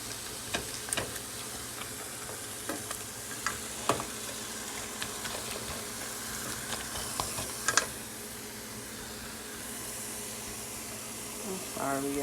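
Meat sizzles in a pan while a small rubber spatula stirs and flips it, with soft scrapes and light knocks over a steady frying hiss.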